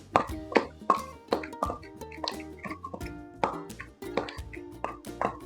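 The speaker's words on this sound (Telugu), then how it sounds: "చింతపండు వేసుకొని మెత్తగా దంచుకోవాలి." Soaked tamarind being pounded for ridge gourd chutney, a steady run of close, wet, squishy thuds in an uneven rhythm.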